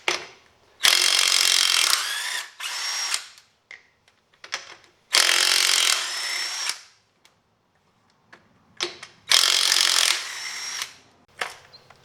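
Bauer 20V 1/2-inch cordless impact wrench spinning lug nuts off a car that sits on the ground, three loud close hammering bursts of about two seconds each with brief ratchety pauses between them.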